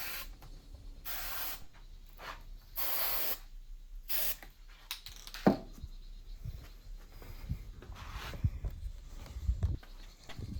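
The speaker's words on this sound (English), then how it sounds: "I'm going to spray the adhesive down inside the panel a bit" Adhesive sprayed inside a loose fabric door panel of a Chrysler 200, heard as several short bursts of airy hiss separated by pauses, mixed with rubbing, handling and faint knocks close by.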